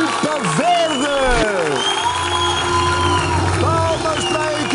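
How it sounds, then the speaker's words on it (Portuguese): Crowd noise at a televised team game show, with applause and cheering for the green team under loud, busy music and voices throughout. "Palmas para a equipa verde!"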